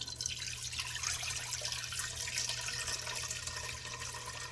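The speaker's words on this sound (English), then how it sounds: "start with 3 cups of water that are going to be added to the pot" Three cups of water poured into a cooking pot while making Salvadoran arroz con leche, a steady splashing stream that runs without a break and stays close and fairly loud.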